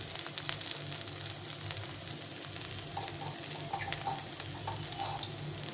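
Chickpea chaat frying in a pan with cumin powder just added, a steady, even sizzle with faint crackles running throughout, no voices.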